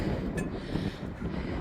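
Gusty coastal wind near Bude sea pool roars across the microphone in a low, steady buffeting rumble, close and loud.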